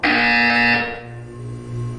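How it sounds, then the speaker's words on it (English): A harsh electronic buzzer from the video game Portal 2, loud and sustained for under a second before cutting off, leaving a lower ambient tone. "When you hear the buzzer, look down at the floor."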